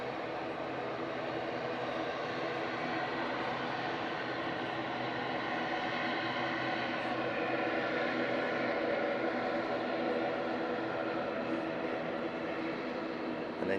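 Engines of an Eastern Airways aircraft at Southend Airport, a steady broadband roar and whine that holds at an even level throughout, heard from a distance with a faint voice at times.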